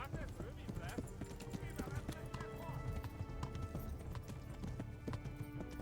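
A horse gallops at full speed in the video game Kingdom Come: Deliverance, rapid continuous hoofbeats drumming throughout over a dense game soundscape with someone talking over it.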